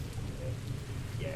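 A heavy rain downpour beats steadily on the deck of a skyship, a dense continuous hiss lasting throughout with no distinct drops standing out.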